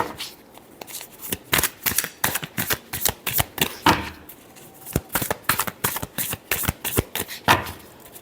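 Tarot cards being shuffled by hand in a fortune-reading session, a fast run of crisp riffling flaps and slaps in uneven bursts, close and fairly loud, with no talking over them.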